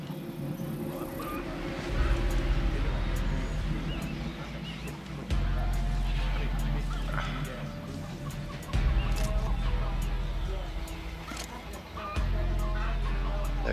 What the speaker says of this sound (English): Chickens. There's party crashers!